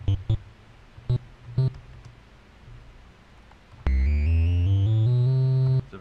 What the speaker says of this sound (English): Triangle is a warmer, lower instrument that we often use for bass in games